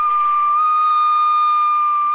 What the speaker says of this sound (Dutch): Het welbekende fluitje en lekker ouderwets kolen scheppen